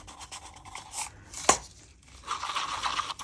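Eco Pour resin mixed with sand into a thick, gloopy blend, giving close scraping and stirring noises with one sharp knock midway, then a steadier rasping churn toward the end.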